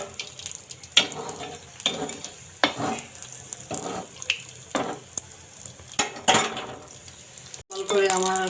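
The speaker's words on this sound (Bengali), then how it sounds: "বড়াগুলো ভেজে নিচ্ছি, এখন তুলে ফেলবো।" Vegetable pakora fritters fry in hot oil, a faint sizzle broken by repeated bursts of stirring and utensil clatter against the pan, ending in a louder metallic scrape.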